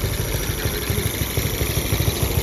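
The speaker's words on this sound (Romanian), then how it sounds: "am găsit și cea mai rudimentară motocicletă." A very basic motorcycle engine idles nearby on a street in Greece, a loud, steady, low chugging putter with a rhythmic mechanical clatter and no voices.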